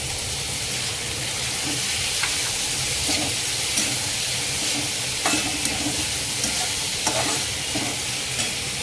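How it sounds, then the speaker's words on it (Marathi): Peas, capsicum and corn sizzle and hiss steadily in a pan for Maggi masala frankie filling, with occasional stirring scrapes and clinks over the continuous frying. "हे छानपैकी फ्राय करून घ्यायचं आहे आपल्याला."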